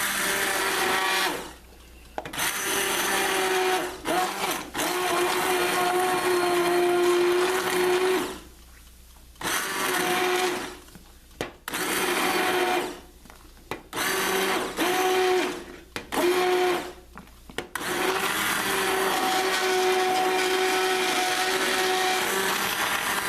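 Stick blender puréeing an orange sauce of oranges simmered about half an hour, for roast duck with Grand Marnier; the motor whirs loudly in several long bursts with short pauses between, no talking.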